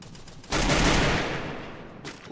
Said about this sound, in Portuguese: O Choque tá atirando aqui